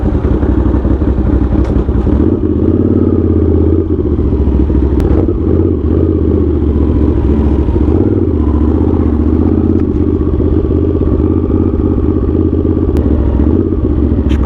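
Honda GL650 motorcycle engine running loud and steady during a ride, with a continuous low rumble and a few clattering ticks throughout.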